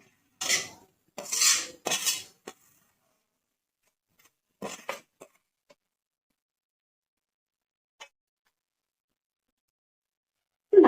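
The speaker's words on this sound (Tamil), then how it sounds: "நல்லா கலந்துக்கணும்." Spinach and chana dal uttapam batter being mixed in a vessel, with a few short scraping strokes of a spoon near the start, then scattered light knocks and a long quiet stretch.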